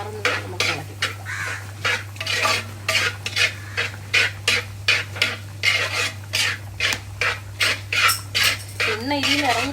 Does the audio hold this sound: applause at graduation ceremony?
no